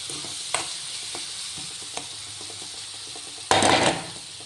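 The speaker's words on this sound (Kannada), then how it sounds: "ರುಚಿಗೆ ತಕ್ಕಷ್ಟು ಉಪ್ಪು, ಸ್ವಲ್ಪ ಅರಿಶಿನ, ಇದನ್ನು ಕೂಡ ನೀಟಾಗಿ ಎಣ್ಣೆಯಲ್ಲಿ ಫ್ರೈ ಮಾಡಿಕೊಳ್ರಿ" Spices with salt and turmeric fry in oil for cabbage palya, a soft steady sizzle with a few sharp clicks of a stirring spoon and a louder burst of sizzling near the end.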